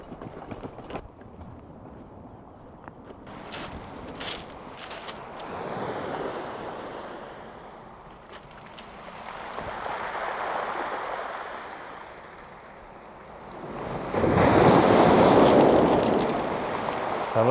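Ocean waves break near the shoreline at San Onofre Bluffs, rising and falling in broad surges of hissing surf, with the loudest wave near the end and steady wind noise on the microphone.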